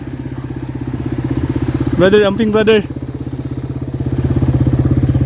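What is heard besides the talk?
motorcycle engine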